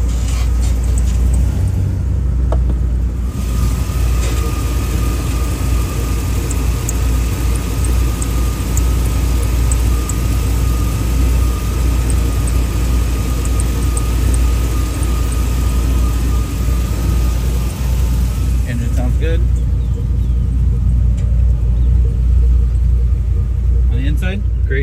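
The V8 engine of a 2002 Chevy 1500 Z71 4x4 pickup holds a constant low rumble throughout, with a person talking over it.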